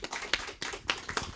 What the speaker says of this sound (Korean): 영광의 박수를